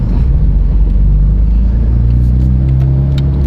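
A BMW E46 M3 engine held on the throttle: a loud, steady, deep idle rumble with a rising hum, up close and continuous with no voices.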